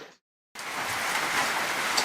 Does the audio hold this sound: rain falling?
yes